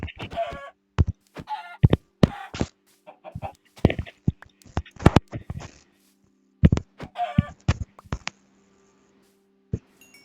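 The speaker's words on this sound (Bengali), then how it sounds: "মুরগিটাকে মেরে নেই।" A Minecraft chicken clucks in short, sharp clusters amid game hit and step sounds, with brief silences between bursts and someone speaking intermittently.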